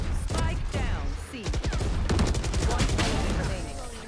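Gunfire in Valorant: rapid rifle shots snap out in a quick burst near the middle, loud and close, with a voice talking over the game's other sounds.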